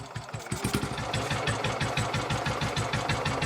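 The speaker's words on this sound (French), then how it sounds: "La Royal Enfield, une moto mythique." A Royal Enfield motorcycle, an Indian-built single ridden through Mongolia, runs steadily close by with a fast, even thumping pulse and no voices over it.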